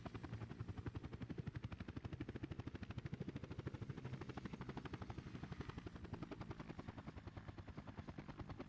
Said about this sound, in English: We have a chopper on the way.